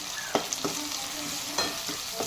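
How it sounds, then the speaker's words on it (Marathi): A ground paste of garlic, coconut, green chilli and peanuts sautéed in a pan: a steady close sizzle broken by several sharp spatula scrapes and taps, with no voices. "आता हे वाटण छान परतवून घेऊया आपण"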